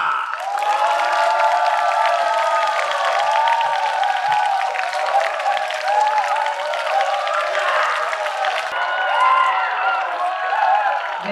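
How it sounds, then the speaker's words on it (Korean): A crowd claps and cheers continuously, with high excited voices and whoops layered over steady applause throughout. "블랙스완 박수로 맞이하겠습니다"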